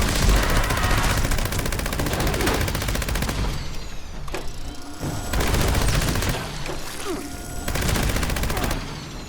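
Gauss minigun in Fallout 76 firing in long, loud sustained bursts of rapid shots with booming impacts, broken by brief pauses between volleys.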